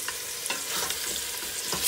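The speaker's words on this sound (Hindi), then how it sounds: "इसको अच्छे से भूनना है इसके अंदर। हल्की आंच पे अच्छे से भूनना ताकि ये अच्छे से भून जाए" Ginger-garlic masala and mutton fry over low heat, giving off a soft, continuous sizzle broken by a few quiet spoon stirs and scrapes at intervals.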